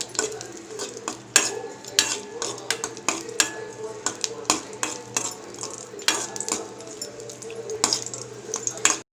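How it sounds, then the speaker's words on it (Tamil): Raisins and cashews are roasted in a pan, with repeated sharp clinks of a spoon or spatula scraping and stirring against the metal over a faint sizzle. A person talks throughout. "இப்போ நம்ம எடுத்து வச்சுருக்கிற கிஸ்மிஸ் பழம் முந்திரி போட்டு நல்லா வறுத்துக்கலாம்."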